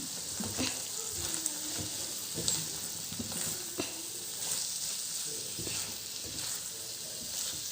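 Okra stir-frying in a pan for a Tulunadu-style bhendi palya, a soft continuous sizzle with intermittent scraping stirs of a spoon against the pan.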